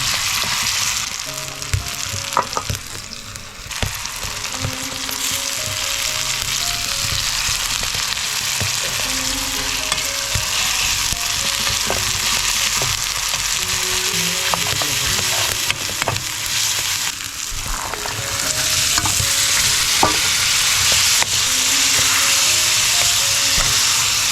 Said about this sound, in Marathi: फोडणी घातले ताईने